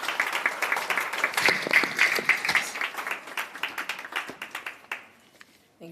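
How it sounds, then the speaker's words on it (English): An audience at a business breakfast applauds the Premier, a dense burst of clapping that holds steady, then thins into scattered individual claps and fades out. "Please give our Premier a big round of applause."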